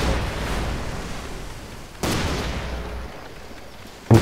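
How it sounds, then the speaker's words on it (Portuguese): Two sharp Far Cry 2 gunshots about two seconds apart, each followed by a lingering noisy tail, with a third abrupt burst right at the end. "errei o tiro no Rodrigo."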